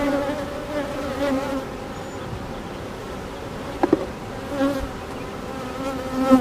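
Honeybees buzz steadily around an open hive during an inspection, a dense close hum with a few louder passes and light handling knocks.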